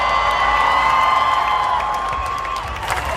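A large grandstand crowd at the Australian Grand Prix roars and cheers for Ferrari's pole position, a loud, continuous wash of cheering with scattered whoops and clapping, fading slightly toward the end.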